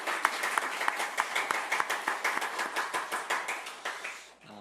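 Applause from a small Korean church congregation during a Sunday worship service, sparse and distinct individual claps in a loose rhythm, fairly soft, fading out at the end.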